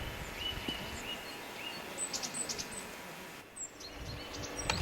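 Small birds chirp faintly in early spring, with snow melting beneath trees where waxwings, bullfinches, tits and nuthatches linger; the high, brief calls come from a distance over a soft, constant background hiss.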